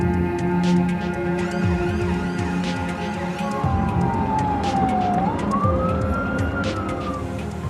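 An ambulance siren rises and falls over steady road traffic, its wail sweeping up and down midway through at moderate loudness with no speech.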